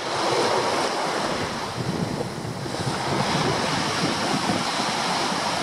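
Ocean waves surge and break along the Norwegian shore in a constant loud wash, with wind buffeting the microphone throughout.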